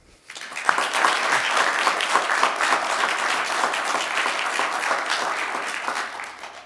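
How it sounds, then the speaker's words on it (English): Audience applauding at a school board meeting, a steady dense wash of many hands clapping that starts abruptly and holds loud for several seconds before tapering at the end. "With a nice crowd like there is tonight, let's give them a hand."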